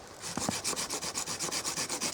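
A bushcraft hand saw cutting through wood outdoors, a quick, regular back-and-forth rasping of strokes, close and fairly loud, with no talking over it.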